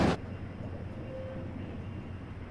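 A passenger train rumbles past in the distance in a train simulator game, a steady low rolling drone with a faint sustained tone, heard after a brief loud burst at the very start.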